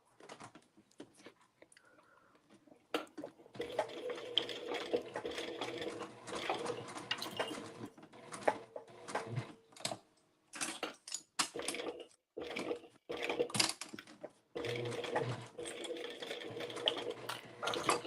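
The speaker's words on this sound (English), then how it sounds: "now you're going to stitch at, I like to stitch at 3/8 of an inch so that our top stitching shows up really well" A sewing machine top stitches a circle bag at 3/8 inch, whirring in sustained runs broken by short stops, with faint handling noises between.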